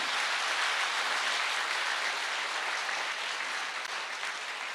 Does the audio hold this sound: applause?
yes